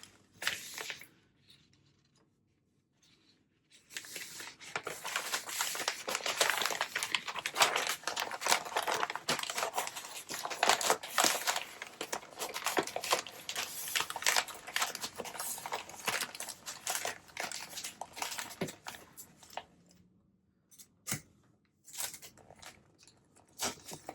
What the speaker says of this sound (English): So we're going to put these in some packing paper.